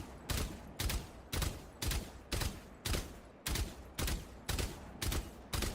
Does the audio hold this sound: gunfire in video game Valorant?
yes